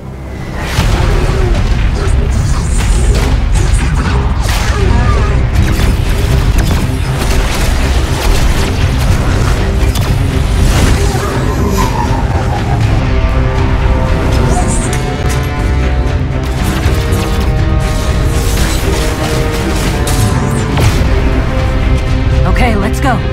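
A Destiny 2 cutscene explosion: a loud, sustained booming blast with rumbling debris that fills the scene for many seconds, heavy and close, with score and effects layered over it and voices briefly heard.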